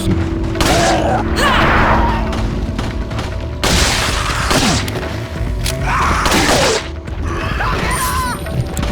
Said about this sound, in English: Still in another good place to use our shotgun